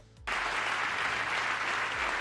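Applause mixed with booing for Elon Musk, Starlink CEO, in a crowded chamber of Congress during a presidential address, bursting in loud after a brief quiet moment and holding steady as a dense wash of crowd noise.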